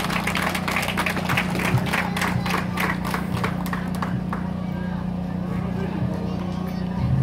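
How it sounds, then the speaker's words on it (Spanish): Audience at a school dance performance by the Escuela Policarpo Melara in Catacamas, Olancho, giving sustained clapping that fades in the second half over a steady low hum and crowd murmur. "sea fuerte el aplauso"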